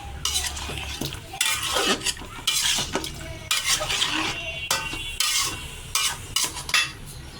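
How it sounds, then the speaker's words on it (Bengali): Chicken is being sautéed and stirred in a pan with salt, ground cumin, ginger paste, chili powder and turmeric, giving a steady sizzle broken by repeated loud scraping and clattering strokes of a spoon against the pan, with no voices. "দেখুন কষানো হয়ে গেছে"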